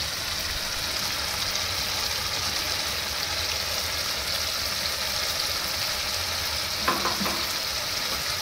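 Cashew paste and spices, including Kashmiri chilli, fry in oil in a pan for a chickpea curry, giving a steady, close sizzle throughout with a brief stirring scrape near the end.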